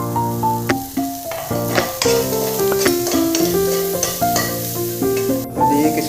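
Poha ingredients sizzle and fry in a pan over lowered gas heat, a continuous crackle with occasional stirring beneath a prominent melodic tune.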